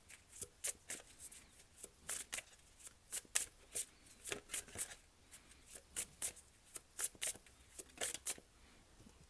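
Tarot cards being shuffled and drawn, a rapid series of crisp papery riffles and slaps in irregular bursts, close and fairly quiet with no talking.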